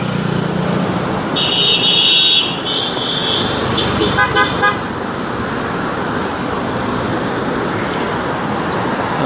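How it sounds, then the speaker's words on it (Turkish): Busy street traffic on a downhill road in Patong with a steady engine rumble and a long, loud car horn blast, followed by a few shorter honks, then continuing road noise. "arabaların şey gidişi, kornası, motor sesi."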